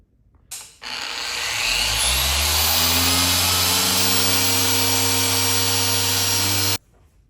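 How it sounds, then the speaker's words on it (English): A power polisher works out a paint defect on a 2026 Tesla Model. It spins up after a short bump, and its pitch climbs into a steady, loud whine that holds for about six seconds before cutting off. No voices are heard. "So I'm gonna go ahead and try to polish that out."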